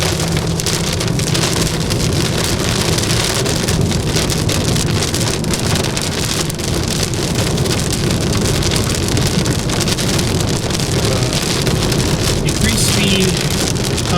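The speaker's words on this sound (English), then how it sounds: "Let's have it rain right here." Heavy rain from a cloudburst pelts a car while driving in California, a dense, constant hiss and patter of drops at close range with a low road rumble underneath, continuous and loud throughout.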